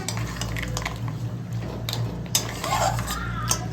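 Fried crabs being added to a cooking pot, with metal utensils clinking and scraping against the pot and faint stirring over a steady background hum.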